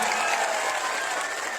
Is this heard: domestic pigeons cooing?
no